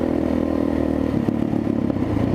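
A Kawasaki KLX470 motorcycle rumbles steadily while being ridden, its engine loud and close with a continuous low throbbing drone and some clattery texture over wind noise.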